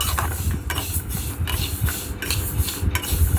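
Dry scraping and rattling as moong dal lentils are stirred while dry-frying in a metal wok, steady rhythmic strokes up close, with a low background rumble.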